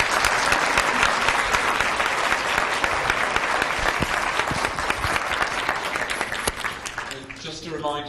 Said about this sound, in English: perhaps could we give a round of applause